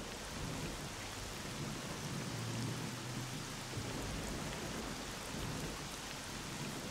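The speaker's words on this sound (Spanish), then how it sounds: "Joder con la lluvia, No se oye un carajo." Heavy rain falls in S.T.A.L.K.E.R.: Shadow of Chernobyl gameplay, a loud, constant downpour hissing across the whole scene with a low rumble of thunder underneath and no voices.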